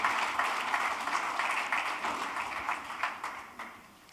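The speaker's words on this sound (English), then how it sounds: "A round of applause," Audience applause at an international trade seminar, a thick wash of claps starting strong and slowly tapering off toward the end.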